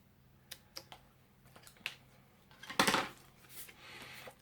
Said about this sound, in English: then just trim straight to where the die cut ends